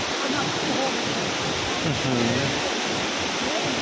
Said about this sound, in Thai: ตรงนี้ น้ำตก ตาดกวางซีนะครับ